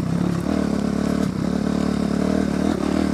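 A Kawasaki KLX250 dirt bike ridden through sand and rock gives a steady, mid-pitched engine drone with light clatter. The note stays loud and close with small throttle dips, and no voice is heard.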